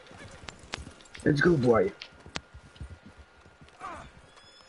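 Horse hooves clip-clopping in the online western game Red Dead Online, with a horse snorting or whinnying mid-way and another faint whinny later, while a person speaks briefly over the steady hoofbeats.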